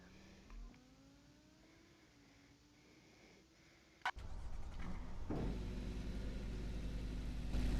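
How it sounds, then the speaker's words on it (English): A car engine starting in the Roblox racing game Project Trackday: a quiet idle hum, then a sharp ignition crack at about four seconds and a loud, steady low engine roar that grows slightly louder. "You can see starting the engine now."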